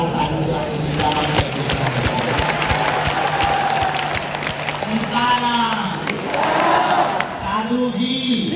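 At a large Hindu devotional gathering, a crowd claps and cheers with dense applause that swells and fades. Voices call out and a microphone voice rises over the noise.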